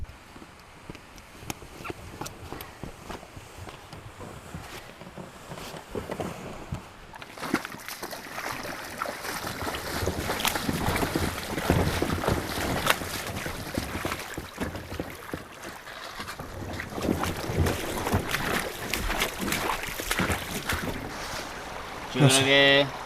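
Paddles working a canoe or kayak on a Patagonian river at night, steady splashing strokes and water movement with wind noise on the microphone, growing louder midway, with no talk.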